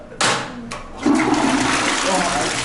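A household toilet in a Nairobi house flushes close by, a sudden rushing burst of water followed by a steady gurgling refill, with a person talking over it.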